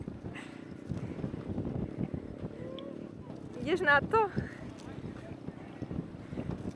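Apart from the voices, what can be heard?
strong wind blowing outdoors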